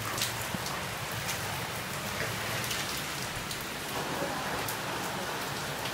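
Heavy rainstorm in Orlando, Florida with a little hail, a dense, constant roar of rain pelting surfaces nearby, steady throughout with occasional sharper drop impacts.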